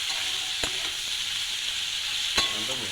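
Food frying in a pan with salt added, a steady hiss of sizzling oil with a couple of sharp taps from the stirring utensil.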